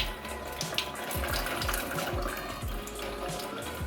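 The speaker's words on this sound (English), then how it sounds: "I'm going to use my strainer to make sure this rice is completely strained" Rice water poured from a container through a kitchen strainer, a steady close splashing stream of liquid with no speech.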